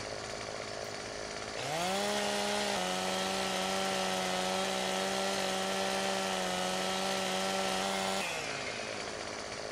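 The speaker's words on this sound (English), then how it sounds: "I'm going to start cutting trees" Chainsaw in the video game Farming Simulator 17 revving up and running at a steady high whine while cutting trees, then winding back down to idle, alone without talk.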